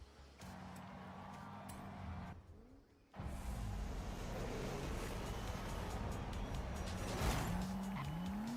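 A racing video game car on dirt tires driving over gravel, a steady engine drone with rising and falling pitch and a brief cut partway through, plus tire noise, with no talking.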